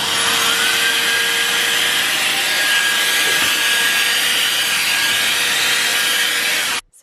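A carpet cleaning machine extracts with a loud, steady high-pitched suction whine that holds for several seconds before cutting off abruptly.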